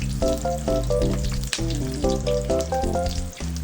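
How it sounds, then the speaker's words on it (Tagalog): Pieces of lechon kawali pork fry and crisp in a pan while being stirred. A steady sizzle runs throughout, partly masked by louder melodic background music. "So kailangan natin gawing crispy at kailangan ihalo siya para hindi siya masunog."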